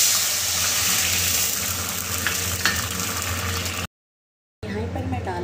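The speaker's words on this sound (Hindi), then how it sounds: "इसमें मैं डाल दूँगी एक कटोरी भरकर पानी" A bowlful of water is poured into a hot wok with ghee, setting off a loud, continuous sizzling hiss with bubbling, then a sudden cut to silence before quieter kitchen sounds return.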